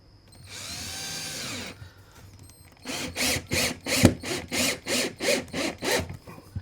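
A power drill whirs in one long burst, then drives screws into a mobile home floor in a rapid series of short, loud pulses with a ratcheting rhythm, close by.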